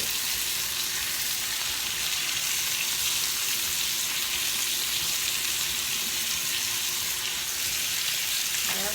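Cheap store-bought bacon sizzles and spits steadily in a hot pan, a dense, continuous hiss close by with faint scraping near the end.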